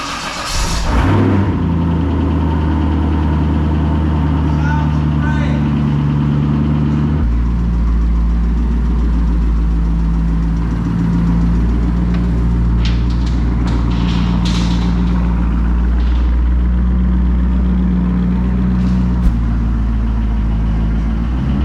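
A Corvette engine starts with a loud burst and settles into a steady, deep idle that runs close by for about twenty seconds, its rumble shifting tone partway through with small mechanical clicks on top.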